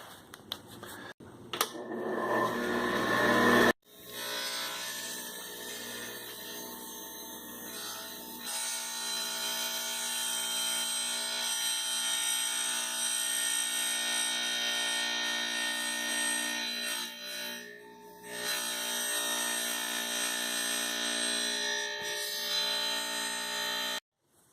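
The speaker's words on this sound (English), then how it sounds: "our wet saw and we'll get it cut off" A wet tile saw cuts through a kitchen backsplash tile, a loud, steady whining grind that runs almost unbroken for over twenty seconds after a brief start-up, with a short dip midway and an abrupt stop at the end.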